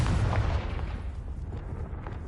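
The Confringo explosion spell in a Hogwarts video game, a loud booming blast with a deep rumble that quickly dies away into a fading roar.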